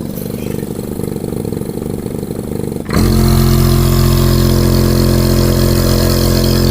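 Compressor motor of a medical device on a solar-panel power supply, struggling on low voltage: a faint running murmur, then it kicks up abruptly into a loud, steady, droning hum that holds to the end.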